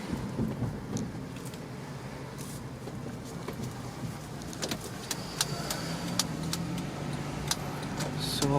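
A 2008 Honda CR-V on a test drive after a rear brake pad replacement, with a steady road and engine rumble filling the cabin and a few faint ticks and clicks along the way, no one speaking.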